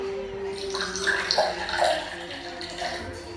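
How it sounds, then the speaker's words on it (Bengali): On a theatre stage, pink water is poured into a vessel of water, giving a moderate gurgling, splashing pour that runs for a few seconds amid faint room noise. "এই যে দেখছেন গন্ধওয়ালা মেরলা জল এর মধ্যে গোলাপি জল ঢেলে দিলাম"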